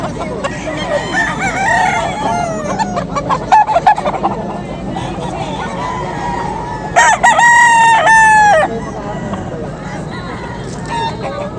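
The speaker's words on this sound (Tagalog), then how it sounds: "ang dami manok dito sa Bukawi" Roosters crow loudly and repeatedly over steady clucking chickens at a poultry market in Bocaue, Bulacan, with a murmur of people talking in the background throughout.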